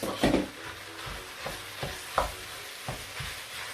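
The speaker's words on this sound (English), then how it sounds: "Now I'll start by adding the meat." Minced beef mixed with pork sizzles steadily as it fries in a pan for a Nigerian meat pie filling, with soft regular scrapes of stirring about every half second.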